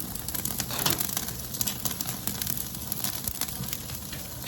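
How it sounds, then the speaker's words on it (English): Ribeye steaks sear over open flames on a Weber kettle grill, giving a continuous close sizzle and crackle of fire, steady and without talking. "I'm gonna let that tone down real quick, but I just want to get some of that flame in there right off the bat"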